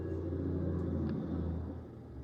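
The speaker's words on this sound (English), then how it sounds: "Wait for that semi truck to go by." A semi truck drives past outdoors, a steady low rumble that swells slightly and then eases off as it goes by, with no talking.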